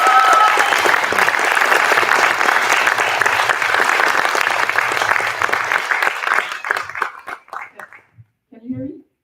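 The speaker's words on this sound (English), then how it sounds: "Give a warm applause to the group." Audience applause for a student group at closing presentations in Tekniska Museet rises loud and thick, holds for several seconds, then thins into scattered individual claps before a voice speaks briefly at the end.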